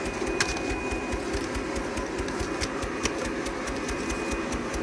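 A Focus Cobra-691s corrugated box printing machine running, giving a steady mechanical clatter with a rapid, even rhythm and a faint high whine, heard up close with no talking.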